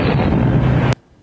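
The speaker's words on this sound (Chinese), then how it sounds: "精准命中靶船，爆炸的破坏力更激起了冲天水花" A torpedo fired from a Chinese navy warship strikes a target ship at sea in a loud, roaring blast that throws up a tall water plume. The single booming burst lasts about a second and then cuts off abruptly.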